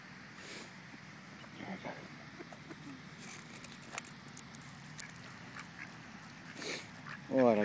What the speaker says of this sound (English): The duckies are hungry.